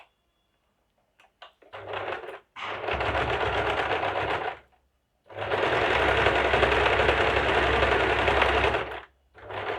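A sewing machine runs double stitching on a princess-cut blouse in two long, loud bursts of rapid whirring, the first after a few short stutters and the second longer, with brief pauses between.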